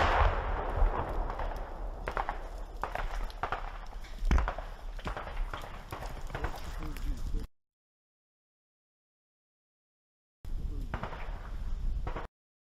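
Gunfire and anti-tank weapon fire in combat between Ukrainian and Russian forces near Kyiv, a dense stretch of repeated sharp bangs and bursts, loud and continuous for several seconds, a silent gap, then more firing.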